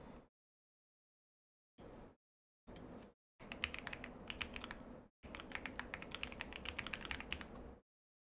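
Mechanical computer keyboard fitted with Godspeed keycaps being typed on up close: short separate bursts of clacking keys, then two longer runs of rapid, dense keystrokes separated by brief silences.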